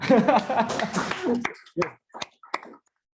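After someone finishes speaking at a startup community's general meeting, a few sparse handclaps ring out one by one in a quiet room.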